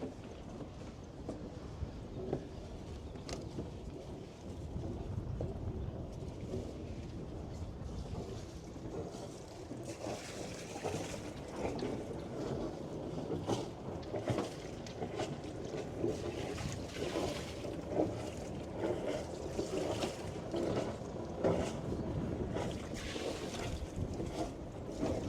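Twin engines of a sailing boat idle in neutral at sea, a steady low rumbling drone mixed with wind and water noise, fairly faint and continuous without speech.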